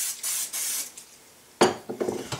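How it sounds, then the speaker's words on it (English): Two quick hissing bursts of cooking spray onto a metal pizza tray close by, then a pause followed by the clatter and scrape of the tray being handled. "Take your pizza tray, spray with some cooking oil."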